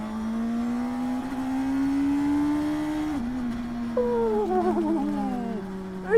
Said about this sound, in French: Petite sonorité extrêmement rageuse, là, de 4 cylindres en ligne